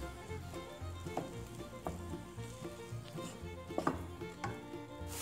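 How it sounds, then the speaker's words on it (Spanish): Ground meat frying in a pan after garlic and onion, a steady sizzle with repeated scraping and chopping taps as a utensil breaks the meat up, close and continuous with no talk. "agregamos la carne y la vamos a desbaratar. A freír a que cambie de color"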